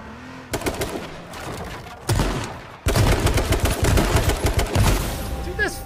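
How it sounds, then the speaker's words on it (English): Rapid machine gun fire in a shooter video game, loud sustained bursts that start, pause briefly, then resume at full intensity, with a voice talking over part of the fire. "Where are all my bullets going? I'm a machine gun!"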